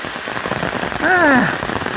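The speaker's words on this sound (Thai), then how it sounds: "ฝนตกหนัก" Heavy rain pours down steadily in a garden at Huai Raeng, Trat province, a dense continuous hiss filling the scene, with a brief rising-and-falling voice-like tone sliding over it midway.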